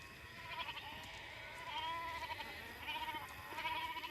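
A herd of goats bleats repeatedly at close range, several overlapping calls rising and falling over a steady outdoor background, with no talking.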